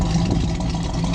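A 1970 Chevy Camaro Z-28 with an LT-1 350 V8 and factory mufflers idles close by, a steady low rumble with a lumpy cam lope, with no voices.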